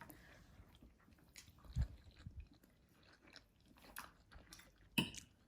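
Someone eating Swedish meatballs (köttbullar) from a spoon: soft, irregular close-up chewing and mouth squishes with a couple of sharper clicks, quiet and without talk.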